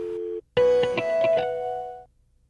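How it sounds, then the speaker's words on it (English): A telephone upstairs rings with a warbling electronic tone, one short steady note followed by a longer trilling ring that fades out, clear and alone. "You should hear the upstairs phone."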